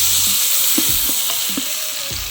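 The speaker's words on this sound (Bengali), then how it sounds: "বাকি যে ভাজার বিষয়টা ওটা আমরা মাংস সহ একসাথে ভাজবো" Meat frying with green chillies at an outdoor picnic, sizzling loud and close while a spatula stirs through it in a few scraping strokes.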